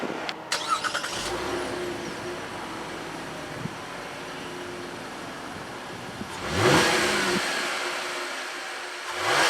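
A 2014 Chevy Impala engine and exhaust revving during acceleration, with a steady engine drone that builds into a louder surge near the end, preceded by a few clunks and clicks from inside the car.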